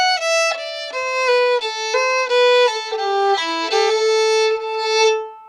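Solo fiddle plays the tag of the B part of the old-time tune Devilish Mary, bowing a short run of distinct notes that step downward into minor tones, close and clear, ending on a held note that fades.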